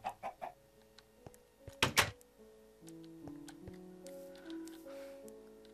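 A Minecraft chicken clucks in a few quick, close bursts, followed by a louder squawk and then quieter game ambience with soft clicks.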